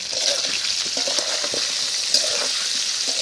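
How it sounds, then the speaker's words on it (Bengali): Potatoes with turmeric and salt frying in hot oil in a pan, a constant crackling sizzle with occasional soft stirring knocks, close up and with nobody talking. "তেল গরম হয়ে গেছে, আলুগুলো দিয়ে দিচ্ছি।"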